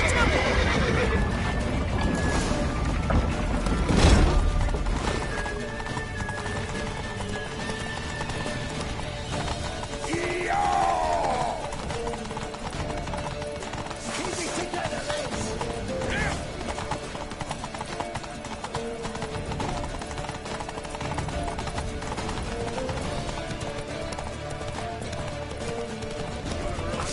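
Horse hooves clip-clop at a gallop with whinnies and neighs in The Witcher 3 video game, a busy game scene with character voices and effects layered over the steady hoofbeats.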